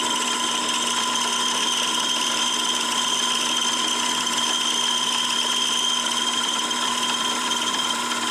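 Mini-lathe turning aluminum with a carbide CCMT/DCMT insert: a steady, continuous high-pitched cutting whine with a faint ratcheting mechanical chatter, holding constant and moderately loud throughout with no talk.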